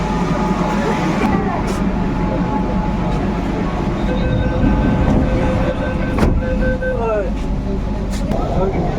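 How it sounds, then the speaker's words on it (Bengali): Metro train pulling into Howrah underground station on the Howrah–Esplanade line, a steady loud rumble with rising mechanical whine and brake squeals toward the end, voices talking faintly underneath. "এখানে আসবে মেট্রো"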